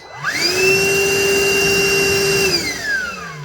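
A Milwaukee M18 0880-20P cordless wet/dry vacuum switches on, its motor whine rising quickly to a steady, loud high-pitched drone, then spinning down after a few seconds, with no one talking.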